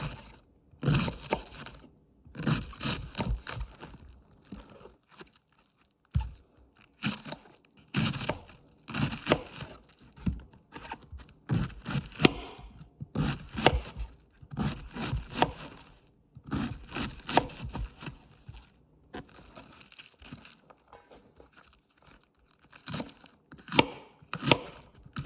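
A kitchen knife chops through cabbage on a board while cabbage and salt fish is prepared, making quick runs of crisp, crunchy strokes in bursts with short pauses between batches, close and fairly loud.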